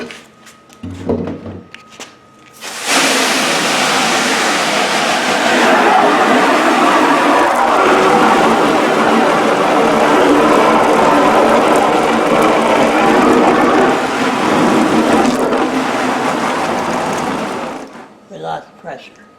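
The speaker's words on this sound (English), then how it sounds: "I have the hose right here, but we're just going to wash" Garden hose spraying water to rinse a silk screen outdoors, a steady broadband hiss that runs loud and continuous for about fifteen seconds, starting and stopping abruptly, with brief handling noise at either end.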